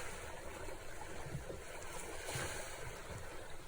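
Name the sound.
ocean waves on a beach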